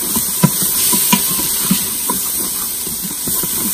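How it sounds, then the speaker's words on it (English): A spoon stirs chili in an Instant Pot, giving a few soft, scattered clicks and scrapes against the pot over a steady, close hiss. "now we're just gonna give it a nice stir"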